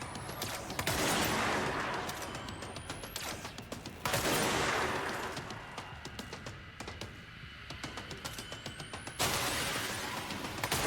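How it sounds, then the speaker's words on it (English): Sustained machine-gun fire rattles nonstop in the action video game Control, in rapid bursts that swell and ease across several seconds, with rumbling impacts and debris mixed into the loud, close barrage. "Going to damage it with normal weapons and then use the machine gun to finish it."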